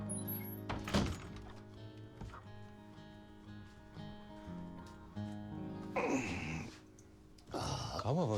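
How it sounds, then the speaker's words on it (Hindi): A door is pushed shut with a single dull thud near the start, followed by voices and background music in a Hindi drama scene. "दरवाजा बंद कर दे।"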